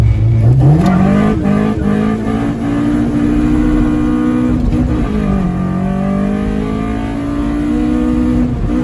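A built Toyota Corolla with a 7AFE engine and individual throttle bodies launching and pulling hard, its loud raspy intake and engine note climbing steadily, dipping at one gear change, then rising again close up.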